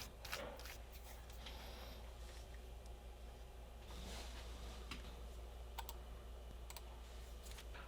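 Keys tapped on a refurbished Dell laptop during final testing after reassembly: sparse, faint clicks scattered over a low steady hum, quiet and close with no talking.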